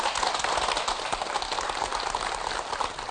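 Studio audience applauding steadily to welcome a joint specialist doctor onto a televised health lecture stage, a dense, even patter of clapping held at close range for the whole stretch with no voices over it.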